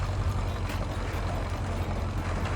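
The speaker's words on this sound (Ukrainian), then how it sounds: "Так, трактор тягне, це добре." A tractor pulling a seeder in the Farming Simulator 22 video game gives a steady, heavy engine drone under load, close and continuous throughout without any change in pitch, with no talk over it.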